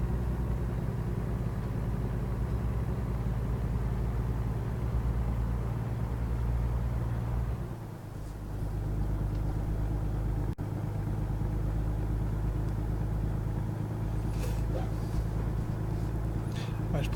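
Truck engine driving in American Truck Simulator, a steady low in-cab drone with a brief dip in revs before it picks back up, while someone talks over it.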